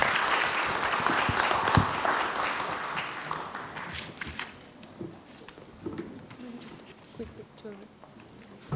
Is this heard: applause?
yes